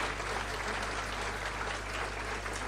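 An audience at a gathering of saints in Ayodhya breaks into loud, sustained applause, an even wash of clapping that holds steady from start to end, heard from some distance over a low hum.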